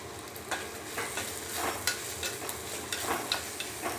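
Prawns stir-frying in a pan with curry leaves, capsicum and carrot, a steady close sizzle broken by regular scraping stirs about every half second, with no voices.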